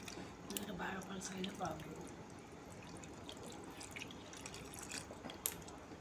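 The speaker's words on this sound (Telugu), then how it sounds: "ఇందులో మనం వాటర్ పోసేసుకుందాం ఒక్కసారి మరిన్ని పోసుకోవద్దు మెల్లమెల్లగా పోసుకుంటూ పోవాలి" Water trickles and drips softly as it is poured slowly into a dough mixture, a faint, uneven splashing heard up close, with voices murmuring in the background.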